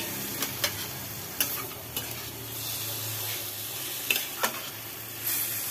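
Curry being sautéed a long time in a pan: a steady sizzle runs underneath while a spatula stirs and scrapes, giving a handful of sharp clacks against the pan.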